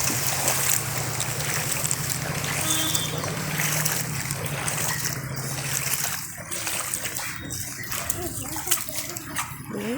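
Floodwater covering a main road, a steady rushing and sloshing wash heard up close with splashes and trickles throughout, while people talk over it.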